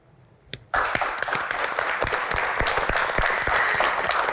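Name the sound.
audience applause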